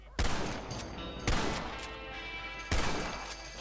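Three loud, sharp gunshots fired at a rope in Red Dead Redemption, spaced roughly a second apart, each followed by a short ringing decay.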